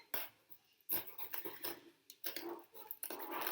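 A knife cuts around the top of a pepper above an oven dish, giving a run of crisp scraping, crunching strokes with short pauses, close and fairly quiet, no talk.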